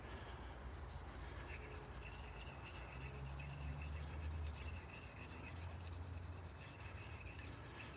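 A knife edge drawn across a coarse whetstone, giving a steady, close rasping scrape that runs without a break and stays fairly loud throughout, with no voices.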